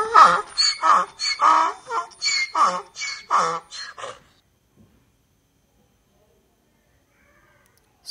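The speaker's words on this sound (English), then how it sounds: "Donkey." Donkey braying: a loud, rhythmic series of about seven harsh heaving hee-haw pulses over four seconds, close and prominent, then falling silent.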